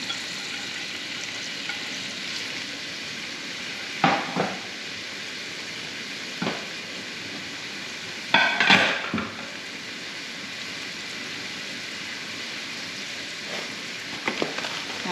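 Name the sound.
chopped onion frying in oil and chicken juices in a pan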